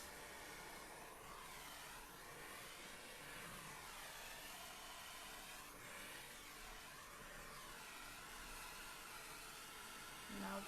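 A heat gun blows steadily over poured acrylic paint on canvas, a faint continuous airy whoosh with gentle swelling as it moves, uninterrupted throughout.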